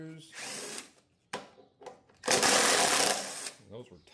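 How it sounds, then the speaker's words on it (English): Power driver backing out two tight screws on the carburetor of a Honda lawn mower that won't start, in short buzzing bursts followed by a louder, longer whir, with a voice speaking between them. "First things first, let's remove these two screws."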